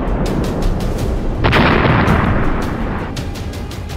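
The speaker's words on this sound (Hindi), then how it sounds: "तभी हिमार्स रॉकेट जोरदार धमाके के साथ उसे तबाह कर डालता है।" A HIMARS rocket strike detonates on a Russian TOS-1A rocket system, a loud deep boom that swells midway and rumbles on, with sharp cracks and bursts scattered around it.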